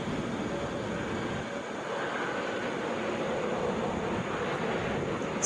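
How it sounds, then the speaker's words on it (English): Delta Airbus A321 touching down at Atlanta International Airport: a steady, distant engine roar and rumble holding evenly throughout, with no voices. "Touching down, Delta 870 from LaGuardia, 10 minutes early. That's an Airbus A321."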